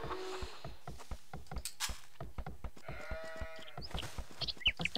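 Sheep bleat several times in the Age of Empires strategy game, set against a fast, steady patter of clicks and chopping sounds from the game.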